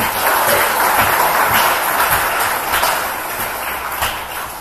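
Congregation in a church applauding together during a Thanksgiving Sunday service, a dense, steady wash of clapping from many hands that fills the room and tapers slightly toward the end.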